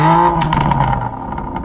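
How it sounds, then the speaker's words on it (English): A BMW M2 Competition exhaust note is heard loud and close as a deep, steady drone with a brief rise in pitch and some rapid crackling pulses, with no voices. "start the quirks and features of the M2 Competition with the exhaust note, which sounds quite nice"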